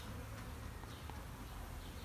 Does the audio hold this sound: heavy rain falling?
no